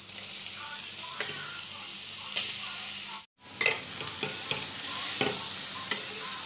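Carrot halwa is stirred steadily in a pan over a constant soft sizzle, with the spoon scraping and tapping the pan now and then and a brief break partway through.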